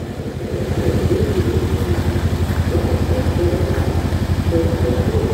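The engine of a 2016 Mercedes-Benz AMG C63 sits idling nearby with a deep, lumpy, pulsing burble that rises slightly at the start and then holds steady.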